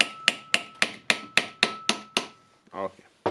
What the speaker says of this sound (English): And hammering it like that.